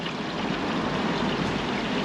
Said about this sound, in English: Now you can hear the water